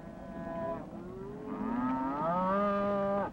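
Calves bawling during a cattle roundup on a ranch, several long drawn-out moos overlapping one after another, loud and close with rising and falling pitch, with no talk.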